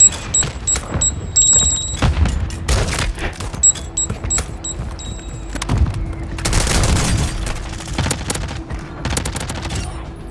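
Call of Duty Warzone firefight with mortar strikes nearby, booming impacts mixed with rapid gunfire bursts and interface beeps, loud and busy with a heavier rumbling cluster near the middle.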